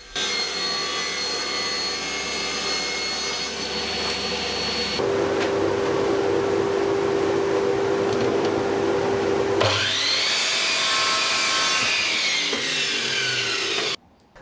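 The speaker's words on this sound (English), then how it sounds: "I cut the 18mm MDF for the front panel" A power saw bevel-cuts a sheet of 18mm MDF, the motor whining steadily while the blade's pitch and roar shift as it bites through the board, up close and loud, then stops.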